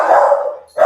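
Dog barking indoors near a kitchen: two loud, close barks, the first drawn out into a howl-like tone, then a short sharp second bark after a brief pause.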